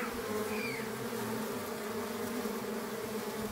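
Honeybees from a large, strong colony drone steadily at a hive fitted with a pollen trap, a close, continuous buzz with no talking.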